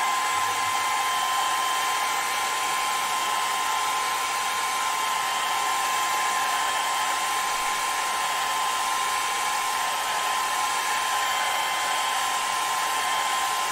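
An air dryer blows continuously over ebonising lacquer on spalted beech, a loud steady whooshing roar with a constant whine, unbroken and alone.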